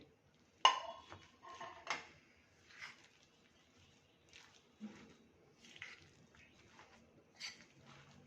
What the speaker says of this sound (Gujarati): એને આપણે બધું મિક્સ કરી લઈએ